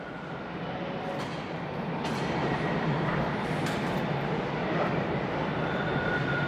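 A train pulls into a station in Islington Village, Toronto, with a steady, close rumble that builds slightly and holds throughout, with no talking.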